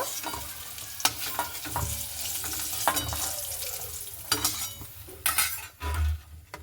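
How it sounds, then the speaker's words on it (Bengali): Lightly fried pointed gourd being lifted out of a pan, with a steady oil sizzle under scraping and clinking of a utensil against the pan, several sharp knocks and a low thump near the end; no talking. "তো দেখুন হালকা ভেজে নিয়েছি এবার আমি উঠিয়ে নেব"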